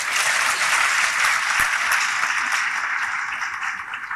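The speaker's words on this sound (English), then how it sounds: "So I think we should clap for them." Studio audience on a politics talk show breaking into a steady round of clapping that fades slightly toward the end, with no talk over it.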